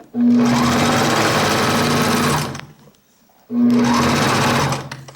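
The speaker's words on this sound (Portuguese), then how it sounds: "aí você já vai batendo o zigue-zague no meio do elástico aqui e esticando" A sewing machine runs zigzag stitches across elastic while it is stretched for a child's overall, two loud, steady bursts of fast whirring stitching separated by a short pause, close and alone.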